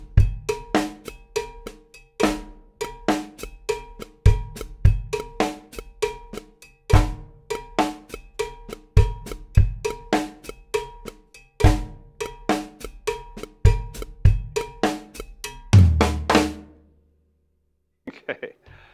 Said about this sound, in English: Here's a typical way he might use the bass drum.